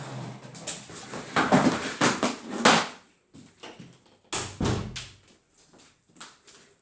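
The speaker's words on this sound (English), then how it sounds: "let me go and shut the door" A door pushed shut indoors, a few knocking thumps and rattles at close range among bumps and handling noises, with no talk.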